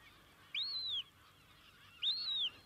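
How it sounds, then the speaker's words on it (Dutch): Newly hatched gull chicks in a field laboratory give two thin, rising-then-falling calls about a second and a half apart, clear against a quiet background. "Pas uitgekomen meeuwenkuikens gingen mee naar een veldlaboratorium."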